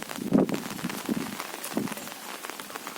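Steady rain patters on a surface, a dense, even hiss of drops with a few heavier splashes, no voices.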